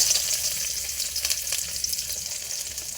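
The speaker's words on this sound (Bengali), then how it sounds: "তেল গরম হয়েছে, পেঁয়াজ কুচি দিয়ে দেবো" Chopped onions frying in hot mustard oil for black pepper chicken, a steady dense hiss of sizzling close to the pan, unbroken and alone.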